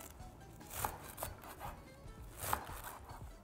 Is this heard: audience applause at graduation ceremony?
no